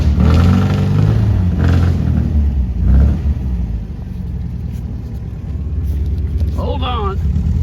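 Vehicle driving around a backyard, its steady engine rumble and revving loud and close throughout, with faint birdlike chirps near the end.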